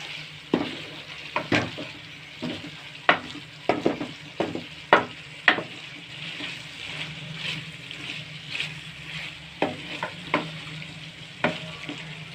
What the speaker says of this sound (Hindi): अभी 5 से 10 मिनट इसकी भुनाई करेंगे।